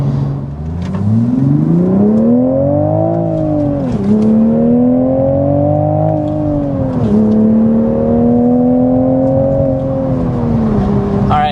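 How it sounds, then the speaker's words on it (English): A 2026 Toyota GR Supra MkV Final Edition sports car accelerates hard, its engine note climbing loudly and steadily through two quick gear shifts, heard continuously from inside the car. "Had to do one more acceleration"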